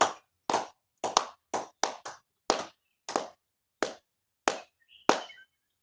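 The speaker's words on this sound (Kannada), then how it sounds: "ಹಿಂಗೆ ಜೋರಾಗಿ ಚಪ್ಪಾಳೆ ತಟ್ಟಬೇಕು" Loud, sharp hand claps at the Gauri Teertha pond ring out one by one, about eleven separate claps in irregular rhythm with short gaps of near silence between them, close by and clear, with no talk.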